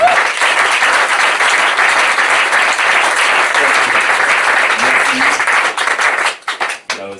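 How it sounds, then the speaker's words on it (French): Heavy, sustained applause from a church audience for the pastor, a dense wall of clapping that holds steady, then breaks into a few scattered claps and fades. "Est-ce qu'on peut l'applaudir?"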